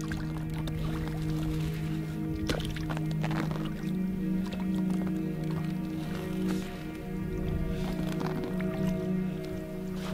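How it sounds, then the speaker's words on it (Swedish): An inflatable boat is paddled out on Storstensjön, a lake in the Hotagsfjällen wilderness, with soft, irregular paddle splashes and water sloshes over a steady low background, with no talking. "då är det väl lika bra att börja paddla då?"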